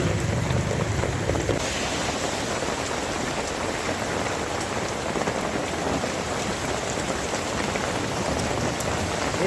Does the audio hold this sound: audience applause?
no